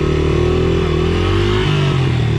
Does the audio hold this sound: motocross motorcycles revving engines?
yes